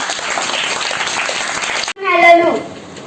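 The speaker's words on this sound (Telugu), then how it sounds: "సూపర్ క్లాప్స్ కొట్టండి గట్టిగా" Schoolchildren at a Telugu Language Day program in a primary school clap loudly and briskly for about two seconds. The applause breaks off sharply, and a single voice follows right after.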